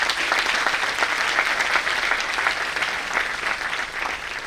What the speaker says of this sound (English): yes, clap for yourself.